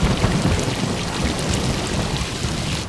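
Heavy rain with thunder: a loud, dense, continuous downpour roaring evenly across the whole stretch, with deep rumbling underneath and no voices.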